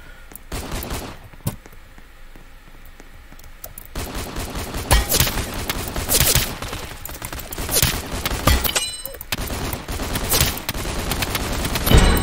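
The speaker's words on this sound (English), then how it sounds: "that was the Tommy gun" Rapid bursts of Tommy gun fire in the Roblox game Shoot Out, loud clattering volleys repeating in clusters over several seconds with brief pauses between.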